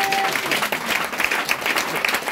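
A church congregation applauding and cheering, dense sustained clapping with crowd voices filling the room continuously, loud and close.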